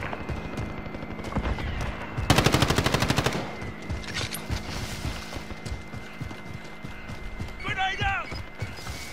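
Rapid burst of automatic gunfire in the Warzone battle royale game, loud and close for about a second, followed by scattered smaller shots and in-game clatter, with radio-style voice chatter later.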